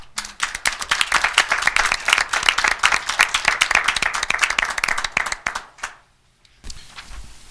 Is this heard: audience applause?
yes